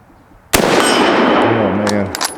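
A single sharp rifle shot cracks close and loud, followed by a sustained ringing tone as a steel target rings and rattles from the hit.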